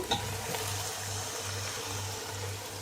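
Tomatoes frying in a pan of biryani masala, a steady close sizzle with a soft stirring scrape near the start and a low humming drone underneath.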